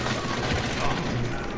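Continuous rapid gunfire rattles loudly in a Call of Duty: Modern Warfare match, a dense unbroken burst of shots filling the short moment.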